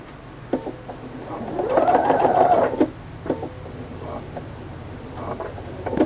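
A sewing machine stitches a quilted Christmas tree skirt, its needle whirring in a close, steady run that swells for a couple of seconds, then falls back to softer stop-and-start stitching.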